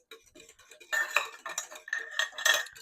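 Vegan pineapple upside-down cake batter whisked in a bowl, with rapid, irregular clinking and scraping of the metal whisk against the bowl, close and fairly quiet, with no voices.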